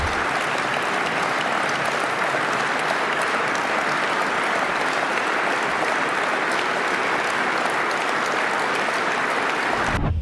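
A dense, steady wash of audience applause keeps going without a break for about ten seconds at full strength. It carries no voices and trails off only at the very end.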